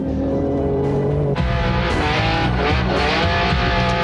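Rally cars roar at speed through a 1998 Dakar Rally stage, among them Mitsubishi entries, with loud continuous engine noise, gear changes and revving, and no voices.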